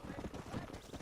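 A horse galloping in the Red Dead Redemption video game, rapid rhythmic hoofbeats close up at moderate loudness, continuous through the brief moment.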